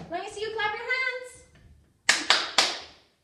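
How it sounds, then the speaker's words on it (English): Three sharp, loud hand claps in quick succession follow a sung children's action-song line, ringing out alone after the voice stops. "Let me see you clap your hands."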